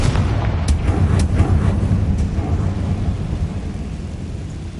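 A Confringo fire spell blasts in Hogwarts Legacy, a loud, deep rumbling explosion with a sharp onset that rolls on as a heavy low roar and slowly fades over several seconds.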